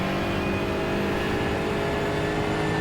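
A GT4 race car at Sebring in iRacing pulls hard at full throttle out of a hairpin, a loud, steady engine drone with a sustained rising tone, no gaps.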